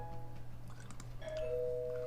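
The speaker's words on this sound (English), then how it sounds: "My musings were interrupted when the doorbell rang." A doorbell in the visual novel game Angels With Scaly Wings, heard as a soft tone rising out of a steady background hum and ringing on near the end.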